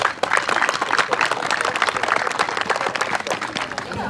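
A crowd at a high school softball senior day applauds the senior players. Loud, continuous clapping with sharp individual claps runs through the whole stretch.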